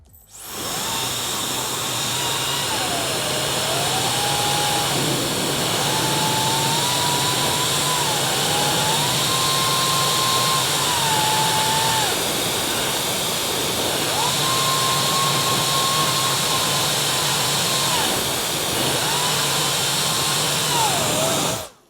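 A Dyson Supersonic or Laifen hair dryer running on its heat setting gives a loud, steady airflow roar with a high motor whine whose pitch shifts and settles several times, heard alone from start to finish.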